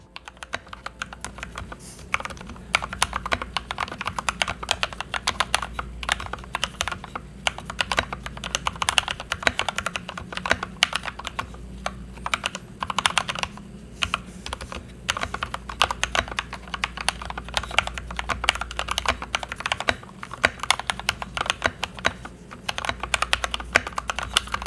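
Typing on an Anne Pro 2 mechanical keyboard with freshly lubed switches and stabilizers, recorded close up: a steady stream of muted, even key presses at a brisk pace, with no voices.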